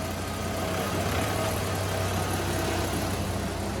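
A VW Passat B6 engine, with the car up on jacks, runs steadily and loudly up close, a constant rumbling drone with no clear rise or fall in pitch, and no voices.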